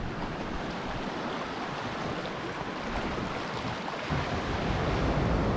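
Ocean surf washes against a limestone-cliffed beach at Blanche Point on South Australia's Limestone Coast, with a continuous hiss of waves and wind buffeting that swells slightly louder toward the end.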